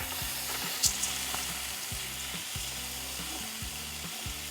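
Chopped tomatoes sizzling and frying in a pan for a mung bean and chicken dish, a steady crackling hiss throughout with a few soft stirring knocks, close and fairly quiet, no talk.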